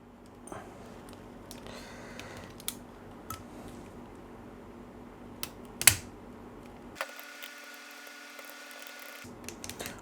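Sharp plastic clicks from buttons on a 3D-printed flight management computer keypad, scattered and close, with one louder snap near the middle and a brief electronic tone partway through.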